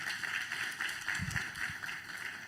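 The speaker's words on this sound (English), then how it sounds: "Let's clap for her." Audience members at a fraud awareness event clap for the host, a faint, steady patter of applause that sounds distant and continues throughout.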